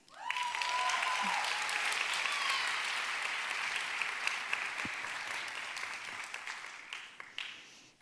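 Audience applause welcoming speaker Ian Cron, a loud, sustained wave of clapping from a crowd that swells quickly, holds, and tapers slightly toward the end, with a few whoops mixed in.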